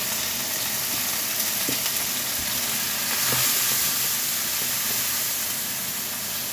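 Onion and garlic fry in a hot pan with a steady, loud, close sizzle and hiss that runs unbroken, with faint stirring and no voices.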